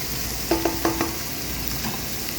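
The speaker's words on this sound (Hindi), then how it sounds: "बस हम हल्का सा सौते करेंगे, ठीक है।" Onions lightly sautéed in a pan give a soft, constant frying hiss, with a few clinks and scrapes of a utensil against the pan near the start.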